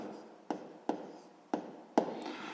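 Pen or pencil writing math by hand, near and clear, with four sharp taps as it touches down, each followed by a short scratchy stroke.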